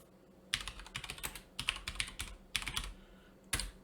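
Keys clacking on a computer keyboard while commands are typed into a Linux terminal, arriving in several quick bursts of taps separated by short pauses, close and clear, with a sharp final keystroke like an enter press.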